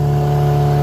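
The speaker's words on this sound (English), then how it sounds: "Sorry for the noise of the engine." A fishing boat's engine runs out at sea off Whitby, a loud, close, steady drone with a deep hum that never changes over a moment.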